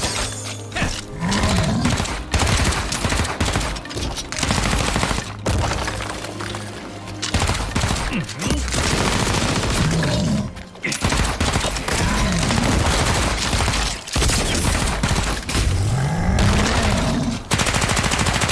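Rapid bursts of gunfire rattle through a fantasy MMO battle, loud and dense, with shattering impacts and roaring effects overlapping in nearly unbroken volleys and only a few brief lulls.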